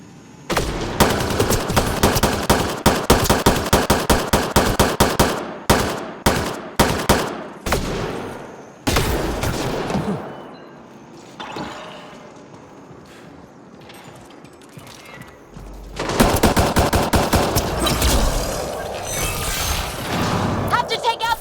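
A gunfight against a sniper in Mass Effect: Andromeda, with loud rapid bursts of automatic fire, a few single shots, a quieter lull with voices, then another sustained burst of gunfire.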